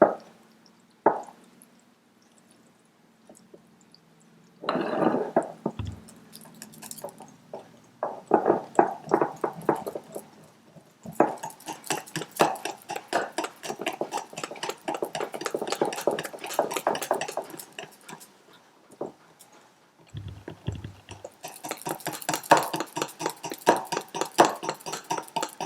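Crêpe batter with melted butter and homemade vanilla extract is whisked in a bowl, with long runs of quick, rhythmic wet tapping and clinking, broken by short pauses.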